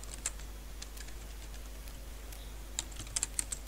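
Python code being typed on a computer keyboard, a quiet scatter of light key clicks with a few isolated taps early on and a quicker cluster of presses near the end, over faint low hum.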